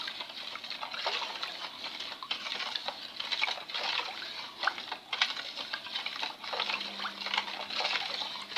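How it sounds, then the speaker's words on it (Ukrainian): Brine is poured into glass jars of pickled cucumbers, making a quiet, steady trickle with small splashes and patters that run continuously. No speech. "Будемо заливати наші баночки."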